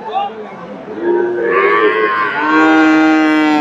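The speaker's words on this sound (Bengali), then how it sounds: "ফ্রিজিয়ান গাভী" A Friesian dairy cow at a rural cattle market in Bogura lets out a loud, close, drawn-out moo that rises and holds for about two seconds, with faint background noise before it.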